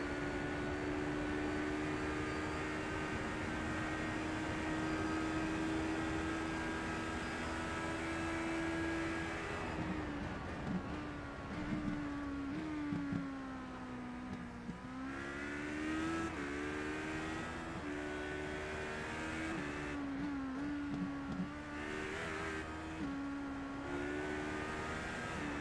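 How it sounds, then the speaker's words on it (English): Race car, the number 22 machine, lapping Virginia International Raceway, its engine droning loud and steady, then shifting and pulling through a series of rising and falling revs as it brakes and accelerates through corners, alone with no talk. "As that is a lap around VIR with Tim Jonk, the pod number 22 machine"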